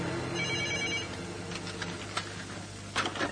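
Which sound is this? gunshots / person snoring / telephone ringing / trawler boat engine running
telephone ringing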